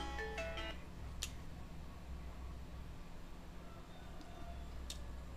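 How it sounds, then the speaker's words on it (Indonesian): A phone rings in a kitchen with a short electronic ringtone burst at the start, followed by faint isolated tones over a steady hum and background noise. "telepon"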